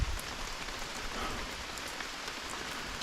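Steady rainfall in a Costa Rican rainforest at a lodge with hanging bridges, a soft continuous patter of drops on foliage nearby, with faint separate drips standing out.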